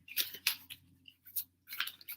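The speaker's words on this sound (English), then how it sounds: "Now, I'm just going to shuffle first" Cards are shuffled by hand for a reading in a quiet room, giving short crisp bursts of riffling and snapping in irregular clusters, close and fairly soft.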